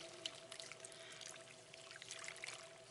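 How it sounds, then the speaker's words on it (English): Reduced-sodium chicken broth pours into a cooking pot in a soft, faint liquid trickle with small splashy spatters, quiet and close. "I've got 1 cup of great value chicken broth, reduced sodium. I'm going to put that in here."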